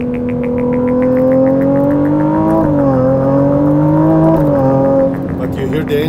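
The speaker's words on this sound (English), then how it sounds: "I hear your engine, I hear you. Revving it." A Ferrari engine running on a race track, a loud, steady close drone that rises and shifts in pitch, then eases off toward the end.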